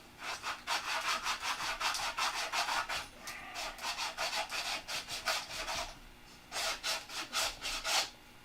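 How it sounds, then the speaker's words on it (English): Sandpaper rubbing back and forth across the inside of a Sig Magnum model airplane cowl to flatten it, a steady rhythm of quick, close, raspy strokes with a brief pause partway through. "We're sanding the inside flat."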